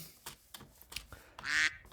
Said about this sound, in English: Random ducks somewhere.